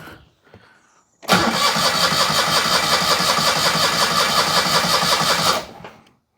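A Citroen 2CV engine catches after fuel is pumped in and runs in a loud, steady, buzzy idle for about four seconds before cutting out, with faint clicks beforehand.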